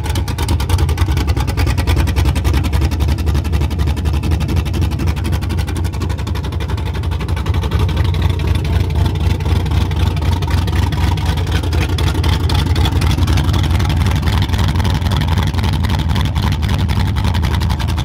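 A cammed truck engine with open headers idles loudly nearby, a deep, choppy, uneven rumble that stays constant and heavy throughout, with no voices over it.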